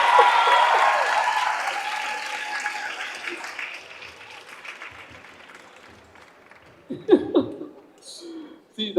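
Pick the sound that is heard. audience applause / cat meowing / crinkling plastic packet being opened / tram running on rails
audience applause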